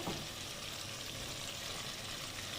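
Eggplants frying with tomato, curry leaves and masala in oil in a pan give a steady, dense sizzle that holds evenly throughout, close and moderately loud, with no talking.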